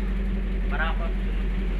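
An owner-type jeep engine without a muffler idles with a loud, steady low-frequency rumble, and a voice speaks briefly over it partway through.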